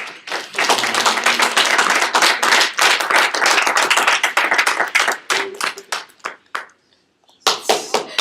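An audience claps after a spoken testimony on beauty: dense, steady applause for about five seconds that thins into scattered separate claps, a brief silence, then a short final burst.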